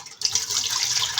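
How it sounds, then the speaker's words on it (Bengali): Milk being poured into a cooking pot for a milk pitha dessert, a steady liquid pour that starts after a brief pause and runs continuously at close range with no talking. "দুধটা আমি পাতিলে ঢেলে দেব।"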